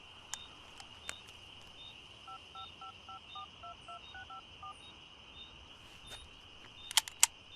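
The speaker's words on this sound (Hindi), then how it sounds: "पहले फोन करना है, बीवी से बात करनी है।" Telephone keypad tones beeping in a steady sequence of short evenly spaced presses, moderately close and clear over a faint background hiss, with a few sharp clicks at the start and end and no talking.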